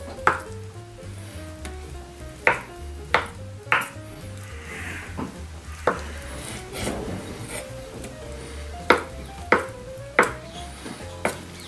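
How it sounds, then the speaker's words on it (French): A knife cuts peeled boiled potatoes into pieces on a board, giving a run of sharp, evenly spaced taps and thuds at close range with a soft scraping between strokes. "on va les couper maintenant en morceaux."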